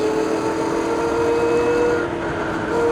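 KOVO NOVA MINI 48-volt electric dirt bike climbing a hill, a steady high motor whine held over a constant rushing noise, close and even throughout.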